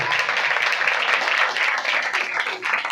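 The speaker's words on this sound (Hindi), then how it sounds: "खुदा के जलाल के लिए जोरदार तालियां।" Vigorous clapping rises from a congregation at a church anniversary service, a close, continuous burst of applause with a faint murmur of voices beneath it.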